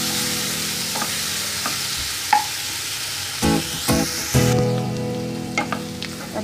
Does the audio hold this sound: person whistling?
no